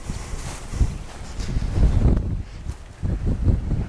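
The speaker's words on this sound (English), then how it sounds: "It's a little windy today" Gusty wind buffets the microphone outdoors in uneven rumbling bursts, with faint rustling and no voices.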